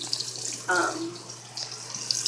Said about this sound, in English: So I just gotta let the water run